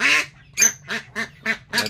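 A domestic duck (itik), pulled from the water and resisting handling, gives a rapid series of about five loud, close quacks in steady rhythm after an opening call, with no talk.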